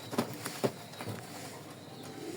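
Racing pigeons coo softly nearby, giving a few faint, low, throaty coos over a quiet background.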